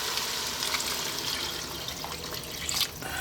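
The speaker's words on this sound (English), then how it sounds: "we're now going to add some water" Water pours steadily into a soup pot of potato and corn soup, a continuous close splashing stream with slight gurgles, alone with no talk.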